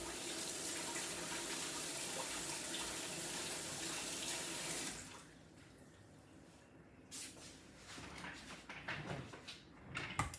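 Tap water runs steadily into a sink for about five seconds while broccoli stalks are rinsed, then stops and leaves quieter splashes and handling sounds.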